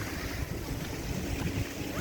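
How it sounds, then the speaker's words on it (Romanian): A small outdoor waterfall rushes with a continuous, fairly close broadband splash and roar, steady throughout with no talk. "O mini cascadă."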